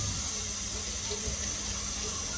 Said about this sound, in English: So I'm gonna wash my ginger.